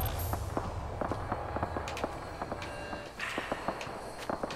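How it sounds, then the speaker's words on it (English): Gunfire in the video game Fallout 4, a rapid stream of distant popping shots at uneven intervals over a constant background hum, with no voices. "What is this gunfire I'm hearing?"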